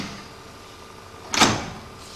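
A copy machine's cover is lifted open by hand, giving one short, fairly loud mechanical clunk with a rattling swish near the end, set against quiet room noise and no talking.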